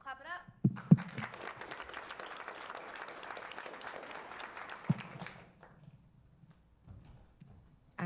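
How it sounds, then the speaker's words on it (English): An audience at an Austin startup meetup claps for the next presenter; a steady patter of applause runs for about five seconds, then fades, leaving a quiet room with a few faint sounds. "All right, let's clap it up."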